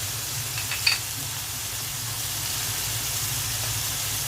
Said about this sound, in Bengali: আদা রসুনের পেস্ট দিয়ে দিচ্ছি।